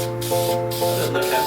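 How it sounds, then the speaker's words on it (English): A spray paint can lays black paint onto an old bucket seat, giving a steady airy hiss in several close bursts, with short pauses between passes and a faint background hum. "So the directions say to apply about 2 to 3 coats. We're probably going to apply about 4 just to make sure this black really comes out."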